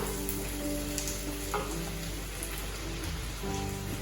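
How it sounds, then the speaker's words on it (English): Mushrooms fry in oil in a pan for a beans and rice bowl, a loud, dense, steady sizzle like rain on a surface, close up with no talking. "So now I'm going to add the mushrooms"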